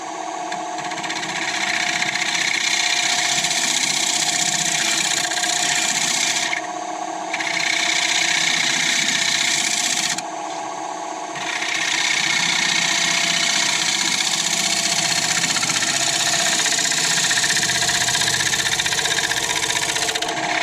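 A negative rake scraper rubs across a wooden bowl spinning on a lathe, giving a steady rasping whir with two brief breaks where the tool lifts off, then resumes.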